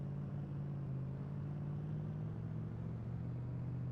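A Ford Raptor truck driving in the game DayZ, a steady low engine drone with a faintly shifting pitch, continuous and fairly quiet with no talking.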